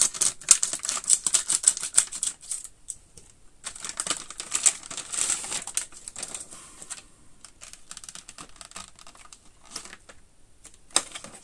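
Scissors cutting open a plastic bag package, a rapid run of crisp snipping and crinkling at close range, busiest in the first half and thinning toward the end, with no talking.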